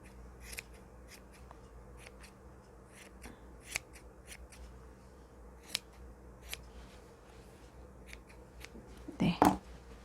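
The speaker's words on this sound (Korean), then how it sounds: "조금 미운 부분 있으면 칼로 잘라내고 가위로" Scissors snip at a knitted yarn pom-pom on a hat, a series of short, crisp cuts scattered irregularly and fairly faint up close, ending with a louder rustle of handling while a person speaks softly.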